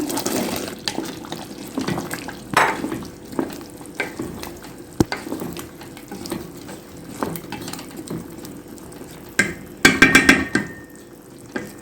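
Okra goes into a pan of simmering tomato sauce for an Egyptian stew, bubbling and sizzling close by with repeated clatters and scrapes of a utensil against the pan.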